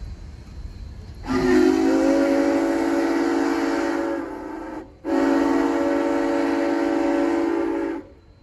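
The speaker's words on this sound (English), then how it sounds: "With 2 blasts of the 6-chime whistle equipped on 2816" Two long, loud blasts of Canadian Pacific 2816's six-chime steam locomotive whistle, rich and multi-toned, separated by a brief pause, with a steady hiss underneath, after nightfall.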